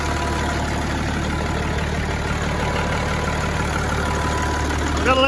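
A Peterbilt 359 truck engine idles just after a power steering repair, a steady low diesel rumble heard close and continuous, with a brief rising whine near the end.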